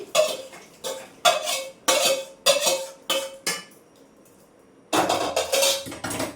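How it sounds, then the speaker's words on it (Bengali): Fried mixture scraped into a pot of khichuri, a series of loud metal clanks and scrapes of a spoon against the pan in quick bursts, a short pause, then another run of clatter. "এবার দেখো আমি খিচুড়ির মধ্যে দিয়ে দিচ্ছি"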